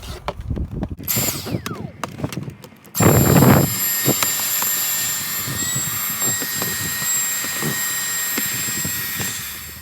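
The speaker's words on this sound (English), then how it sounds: "vacuum up this mess right here" A Dyson vacuum cleaner switches on after a few seconds of clatter and runs steadily with a high whine and a broad roar until the end.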